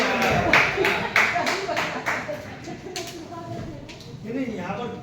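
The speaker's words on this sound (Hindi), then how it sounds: "अपने आप ही ऐसी तालियां बज जाती है।" Audience clapping at a poetry and literature gathering, a run of sharp, fairly loud claps that thins out and fades, with voices talking over the later part.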